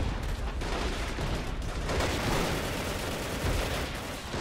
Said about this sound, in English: Shooting out through the buildings, house to house. Shootout right now.